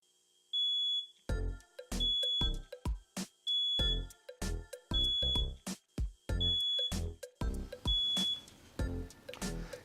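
A smoke alarm beeps loudly and repeatedly in a rapid, uneven string of sharp high-pitched chirps, close to the microphone, with brief silent gaps between the bursts and no talking.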